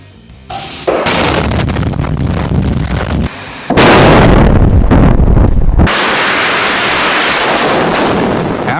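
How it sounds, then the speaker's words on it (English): A tunnel blast in the Himalayas, set off with emulsion explosives and ANFO, hits as loud booming bursts followed by a heavy, sustained rumbling roar that stays powerful for several seconds. "After the explosion,"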